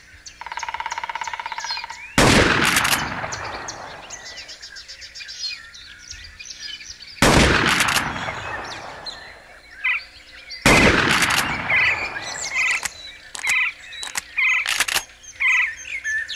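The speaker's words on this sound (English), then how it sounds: "Now, let's try the shotgun. Give me at least 3 good shots" Three loud shotgun blasts ring out in the Bass Pro Shops The Hunt hunting game, spaced several seconds apart, each a sharp broadband boom with a decaying tail over turkey gobbles and outdoor bird calls.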